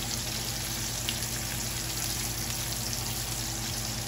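Tacos dorados de frijoles con chorizo frying in hot oil, a steady soft crackle and hiss that holds evenly throughout at a low level, with no talking.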